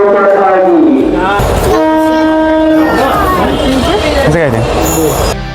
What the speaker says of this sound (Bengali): ট্রেন পৌঁছে গেছে উলুবেড়িয়া স্টেশনে